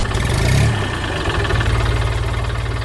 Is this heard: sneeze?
no